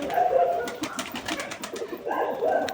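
A pet Lalshira pigeon calls with repeated low cooing phrases, fairly close and steady over a busy background hiss, with a louder burst of coos near the end.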